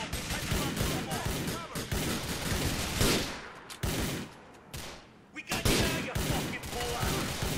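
Rapid bursts of gunfire in GTA 4 crack repeatedly in quick succession, loud and close, with brief pauses between volleys, synthetic game shooting.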